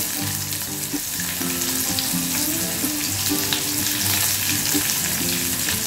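Half a medium onion fries in about two spoons of oil with a loud, continuous sizzle, close up and steady.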